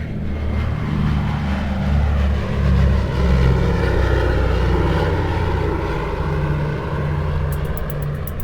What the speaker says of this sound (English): Round engines just sound and smell better than jets.